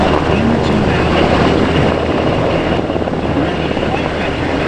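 US Navy MH-60S Seahawk helicopter hovering during a search and rescue demonstration at NAS Key West, a loud, steady rotor and engine roar filling the scene continuously.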